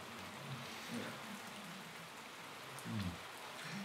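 Steady rain falls outdoors, a soft, even wash of drizzle that is quiet and continuous, with a couple of slightly fuller patches and no voices.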